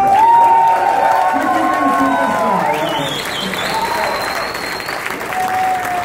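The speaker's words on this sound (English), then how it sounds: "let's give a big applause to this first Indian superstar." An audience at a Detroit event applauds steadily for a 1970s Indian cricket star, a dense, even wash of clapping that stays loud for about six seconds with a few cheers mixed in.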